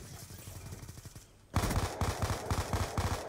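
Automatic weapon fire in a shooter video game, a quieter stretch of rapid shots followed by a louder, closer burst of rhythmic machine-gun fire, with faint talk underneath.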